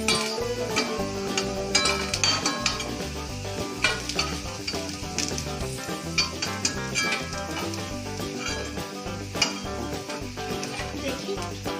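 Egg and semolina pakoras fry in hot oil, with a steady crackling sizzle and frequent metallic clinks and scrapes of a utensil turning them, continuous and close.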